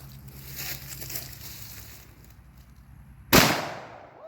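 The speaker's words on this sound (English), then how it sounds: "I'm gonna shoot that Milo's T-Jug." A single sharp, loud gunshot fired at a Milo's tea jug cracks out close by after several seconds of quieter outdoor background noise, then rings off in a fading tail.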